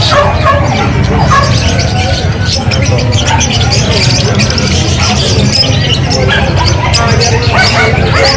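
African lovebirds and budgies chirping together at a pet market, dense continuous tweeting and chatter close by, with people talking under the birds.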